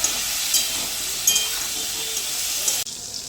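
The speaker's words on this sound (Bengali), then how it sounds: "পটল ভেজে নেওয়ার সময় লবণ দিয়ে দিচ্ছি, হলুদ দিয়ে দিচ্ছি। পটলগুলোকে লাল করে ভেজে নেব।" Pointed gourd (potol) fries in hot oil with salt and turmeric, giving a steady, close sizzling hiss throughout with a few faint pops and clinks before it abruptly quiets.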